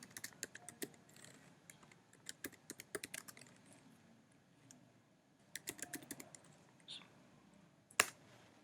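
A terminal command typed on a computer keyboard: quick bursts of crisp key clicks, a pause, another run of taps, then one sharp louder keystroke near the end, close and clear.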